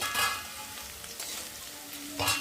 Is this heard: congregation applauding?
no